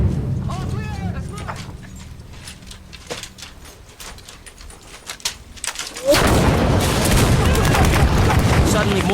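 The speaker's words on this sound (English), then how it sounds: "Suddenly, mortars and gunfire are flying in from everywhere." Battle sounds in 1966–67 Vietnam war footage: scattered gunshots and thuds build into a sudden loud burst of heavy gunfire and mortar blasts, with voices shouting over the noise.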